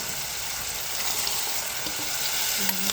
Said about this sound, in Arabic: نزلت بالصلصه اول ما طشت